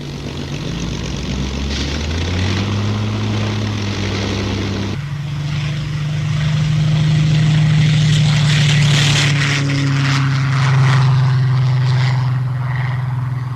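Propeller-driven RAF training aircraft in flight, a loud steady engine drone with a sustained low hum that shifts pitch midway and keeps going for the whole stretch, with no voices over it.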